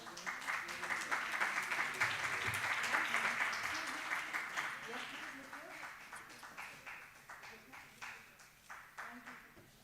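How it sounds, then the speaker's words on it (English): Audience applause at an international capacity-building workshop on sustainable futures, a dense warm round of clapping that swells, then thins into a scattering of claps as it fades over about ten seconds. "A warm round of applause to"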